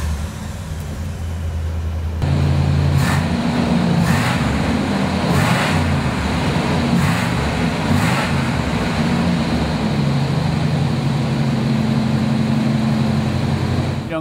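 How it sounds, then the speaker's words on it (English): A 1972 Oldsmobile Cutlass 442 convertible engine cranks and fires after a couple of seconds, then settles into a loud, steady rumbling idle heard up close. "How about I start it for you so you can hear what it sounds like?"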